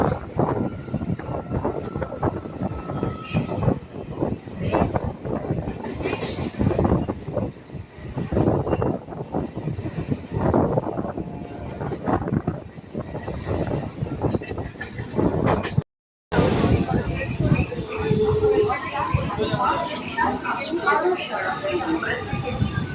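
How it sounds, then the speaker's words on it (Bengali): Suburban passenger train pulling out of Bally station toward Howrah, heard from on board: rumbling wheels, rattling carriages and wind buffeting the microphone, with a brief dropout midway and someone talking over the noise. "আমাদের ট্রেন এখন বালি পাঁচ নম্বর স্টেশন ছেড়ে বেরিয়ে যাচ্ছে"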